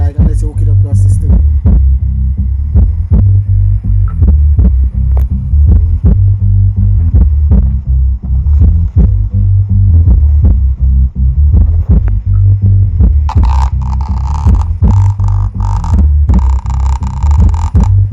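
Sound Qubed car audio setup powered by a repaired Sound Qubed U1.8000 amplifier, playing loud, deep throbbing bass pulses in a steady beat, with brighter hissy music layered in near the end.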